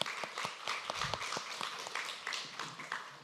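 Church congregation clapping at an Easter Sunday service after a children's and choir performance, a faint, dense patter of many hands sustained throughout.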